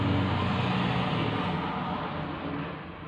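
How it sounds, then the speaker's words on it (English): A car sweeps past close by, a broad steady rush of tyre and engine noise that fades slightly toward the end, with no talk over it. "or was that a car? I'm not sure, but no, I think it was a car"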